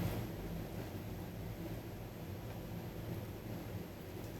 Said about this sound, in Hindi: स्पेन के कई इलाके शदीद तूफ़ानी बारिशों की जद में हैं।